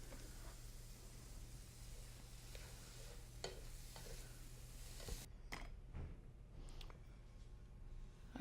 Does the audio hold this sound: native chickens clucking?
no